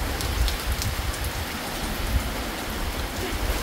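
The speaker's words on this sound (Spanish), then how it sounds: "Pleno verano tenemos una lluvia muy bonita." Summer rain in El Salvador falls steadily on surfaces near a pool and lemon trees, a dense, even patter with low rumbling undertones and no voices.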